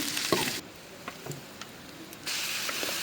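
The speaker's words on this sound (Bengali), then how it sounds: "সরিষার তেল দিলাম, পাঁচফোড়ন দিলাম, রসুন দিলাম, এগুলো একটু ভেজে নিব" Garlic, chopped onion and panch phoron fry in mustard oil in a kadai, a close bubbling sizzle that dips quieter for a moment, with light stirring clinks and scrapes.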